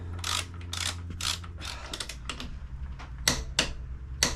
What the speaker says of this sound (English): next we're going to tighten up the rear wheel axle nut